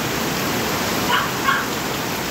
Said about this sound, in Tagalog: Lakas ng ulan guys. Ulan sa Solano yan guys. Napakalakas guys.